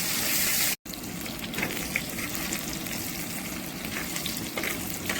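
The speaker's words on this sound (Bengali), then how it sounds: "হয়ে গেছে আলু ভাজা" Potatoes and green chillies sizzle in hot oil in a clay pan, a dense, bubbling crackle heard up close that cuts out for a split second and then carries on evenly.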